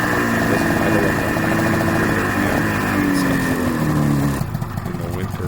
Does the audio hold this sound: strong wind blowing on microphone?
no